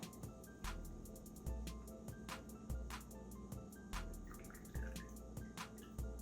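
An LGND nootropic performance drink poured from a can, with a steady liquid stream and repeated fizzy splashes and drips, fairly quiet and close, with no talking.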